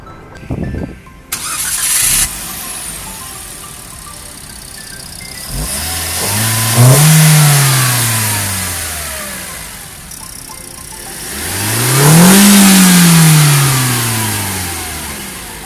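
A 2020 Toyota Agya facelift with a 1200cc engine and manual gearbox starts with a push-button start: a brief starter crank and catch, then two rising revs that swell and fall back to idle, close and alone.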